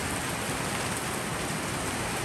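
Rain drumming on corrugated metal roofs, a dense, steady hiss of countless drops, continuous and close with no pauses.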